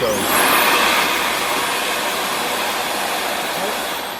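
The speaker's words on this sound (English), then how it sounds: "I'll turn the vacuum on, and I'll see if the debris gets sucked into here" A Dyson vacuum cleaner with a suction fault runs loud and close, a steady broadband whoosh with a high whine that swells at switch-on and holds for a few seconds.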